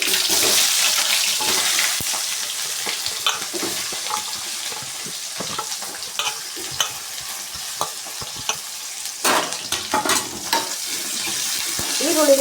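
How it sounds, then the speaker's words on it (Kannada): Garlic and onion frying in a pan for a cumin tomato sambar, a steady close sizzle with scraping stirs and occasional clinks of the spoon against the pan. "ಚೆನ್ನಾಗಿ ಫ್ರೈ ಮಾಡ್ಕೊಳ್ಳೋಣ"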